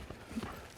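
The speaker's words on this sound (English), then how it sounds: "Let me go ahead and lope him off." Rhythmic hoofbeats of a horse loping, a steady three-beat clip-clop close by with no talk over it.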